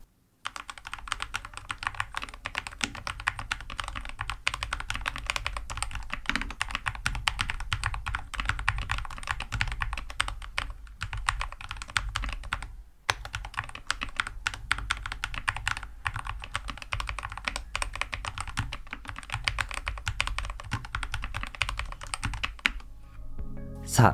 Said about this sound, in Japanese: 一通りモッドを終えたエレコム VK600A が誕生したので、カスタム後の打鍵音を聞いてみます